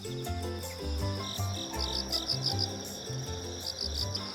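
Dense, steady chirring of grasshoppers and locusts inside a rearing enclosure on an insect farm holding thousands of band-winged and rice grasshoppers, with a continuous insect-like trill and low background hum, no voices.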